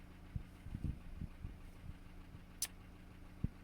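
A Ford Transit 2.4 TDCi diesel engine idles quietly with a low, steady rumble, broken by occasional soft knocks and clicks and one brief sharp high tick, no talking.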